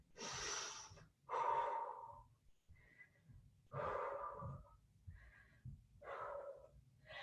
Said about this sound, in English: I'm recovering my breathing.